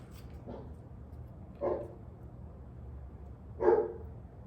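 A dog barks a few times at a distance, single muffled woofs spaced well apart over a low steady background hum.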